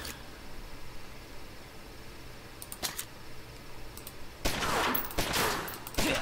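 Gunfire in the gangster strategy game Omerta: City of Gangsters, with a couple of sharp isolated shots followed by a louder, denser burst of firing near the end, over a quiet steady background.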